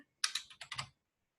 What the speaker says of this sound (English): I'm just going to type in my code